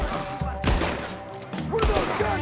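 Gunfire in Red Dead Redemption 2, two heavy booming shots with echoing tails about a second apart, loud and close, with game dialogue and music running underneath.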